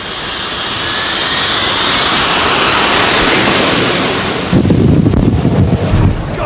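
A Sea Harrier jet engine roars on a ship's tiny deck, a loud sustained rushing blast with heavy wind buffeting the microphone, turning rougher and more turbulent toward the end.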